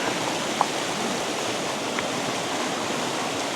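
A creek waterfall in North Carolina pours in a steady, broadband rush of flowing water, constant and fairly close, with a couple of faint brief clicks and no talk.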